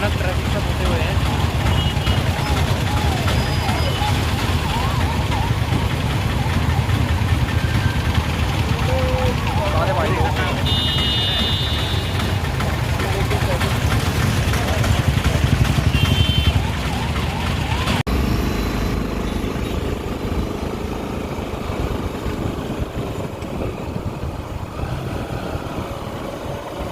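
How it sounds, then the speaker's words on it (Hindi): Dense road traffic jam on the way from Hyderabad to Suryalanka beach, with a steady wash of engines and passing vehicles, a siren-like tone and honking over the rumble, people talking nearby throughout. "हम लोग अभी भयानक ट्रैफिक से फंसे हुए हैं"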